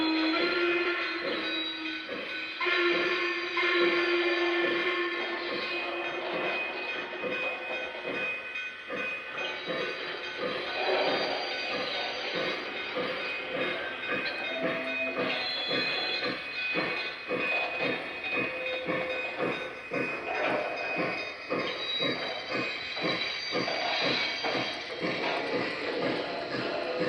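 A Lionel model train clatters steadily along its track with a rhythmic clicking of wheels, accompanied by hissing and a faint whistle, continuous and fairly close.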